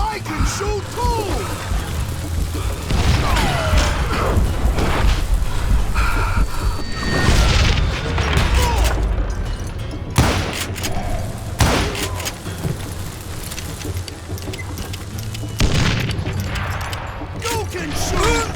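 Gunfire in the Western shooter Call of Juarez Gunslinger, with loud repeated shots and crashing impacts scattered through a dense, busy game soundscape; game character voices shout over the action.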